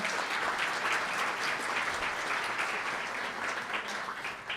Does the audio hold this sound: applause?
yes